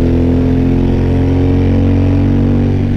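Suzuki V-Strom 1000 2014 motorcycle engine and exhaust running at a steady, loud, close drone with a strong low rumble and no break in sound.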